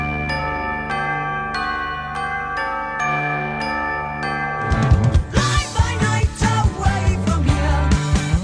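A melody played by a drummer: a repeating ringing keyboard-like figure alone at first, then fuller band instruments with punchy drums join midway, loud and close.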